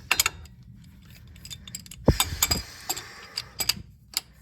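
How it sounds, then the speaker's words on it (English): A ratchet with an extension and O2 sensor socket works on a 2018 Chevy Colorado, giving close, irregular mechanical clicks and taps in short bursts with brief pauses between them. "I put my ratchet and extension on."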